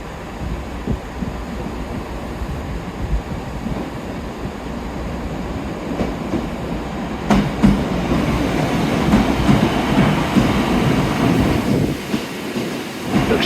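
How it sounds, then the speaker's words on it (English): A train rumbles and clatters close by at Newton Abbot station, its wheels rattling steadily and growing louder midway, with a brief hiss and the hum of the station around it. "there is a train just arrived on the other platform, but this is mine"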